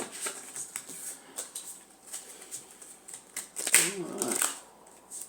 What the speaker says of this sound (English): A bit more of a shuffle.